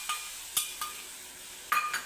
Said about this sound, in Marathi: त्याच कढईमध्ये आता आपल्याला गूळ घालून घ्यायचा आहे बघा.